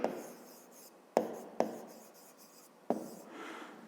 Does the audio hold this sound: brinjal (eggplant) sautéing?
no